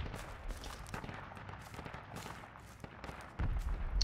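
Gunfire in the Project Reality Battlefield 2 mod: repeated sharp shots and scattered distant bursts crackle across a tense battlefield, louder rumbling fire at the end.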